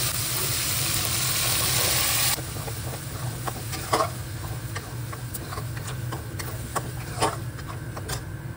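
Spinach added to a pan of fried spice paste in oil sizzles steadily, a loud burst at first that settles into a softer crackle with scattered sharp pops and stirring clicks.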